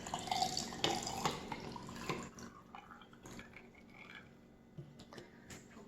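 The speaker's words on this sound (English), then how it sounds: "here I have my glass and it's full of ice. I'm going to put some water in it." Water poured into a glass full of ice, with splashing, trickling and clinking bursts early on that taper into quieter drips and small cracks of settling ice, close and fairly soft.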